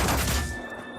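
A turret in a video game fires a short, loud burst of rapid shots that cuts off and leaves a fading ring and hum.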